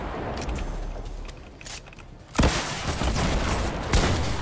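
A loud sniper rifle shot cracks out in a Fortnite match, followed by a dense burst of sharp gunfire and a second blast near the end.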